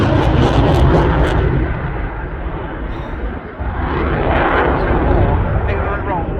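Typhoon fighter jet accelerating at the RAF Cosford Airshow, a loud, continuous broadband roar that holds steady throughout, dipping briefly midway before swelling again.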